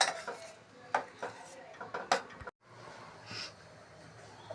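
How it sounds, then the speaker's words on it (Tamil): A spoon scrapes and clinks against a metal pot of cooked toor dal (pigeon pea lentils) several times in quick, irregular strokes, close by, followed by a softer quiet stretch. "வேக வச்ச துவரம் பருப்பு நல்லா மிக்ஸ் பண்ணிவிட்டு கொதிக்க விட்டணும்."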